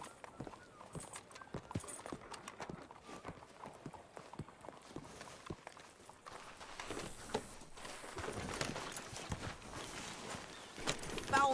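Horse hooves in Red Dead Redemption II, a steady clip-clop of walking steps that quickens toward a faster gait, fairly close and continuous with no talk over it.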